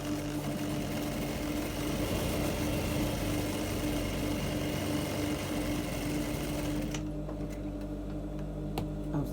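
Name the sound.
sewing machine stitching a dart in fabric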